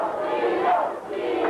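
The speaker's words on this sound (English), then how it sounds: "And the crowd is chanting, Tito," A wrestling arena crowd at a Tito Santana versus Mr. Hughes match chants his name, a loud, continuous roar of many voices with rhythmic swells.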